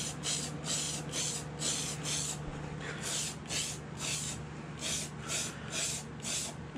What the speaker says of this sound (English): I like to use the Rust-Oleum hammered look, and it gives it a very kind of stippled look to it. Let's give it a little bit of a coat.